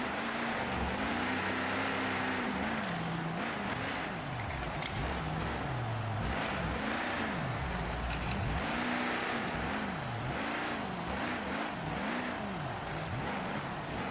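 Race vehicles at Arrowhead Stadium roaring as they launch over a row of parked cars, with loud engines revving and surging in repeated waves against a constant background roar.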